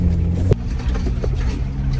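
Ford Bronco Raptor on an off-road course, its engine droning low and steady with a brief sharp spike of throttle partway through, then settling back into a continuous rumble.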